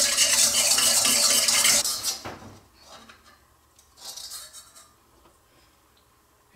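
Stirring yeast, salt and sugar together in a bowl for no-knead Cuban bread dough, a scraping, swishing spoon sound close up that fades, followed by lighter clinks and taps.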